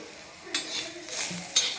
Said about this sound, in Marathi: आता आलं आणि लसूण टाकणार आहे याच्यामध्ये ते पण आपण छान भाजून घ्यायचं